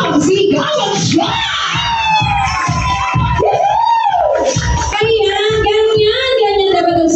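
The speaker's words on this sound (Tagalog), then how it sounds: "Mula po sa inyo lahat ng isang malakas na palakpakan na may kasamang sigawan siya!" Lively crowd at an 18th birthday celebration yelling, whooping and cheering loudly and continuously, with children shouting among the voices; clapping is not clearly distinct beneath the shouting.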